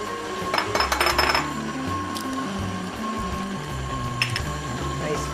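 Eggs go into a bowl of mini orange muffin batter with clinks and knocks of shell, spoon and bowl, close by and intermittent, over a low steady kitchen hum.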